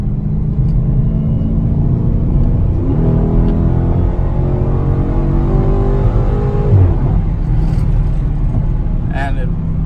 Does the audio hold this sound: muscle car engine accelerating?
yes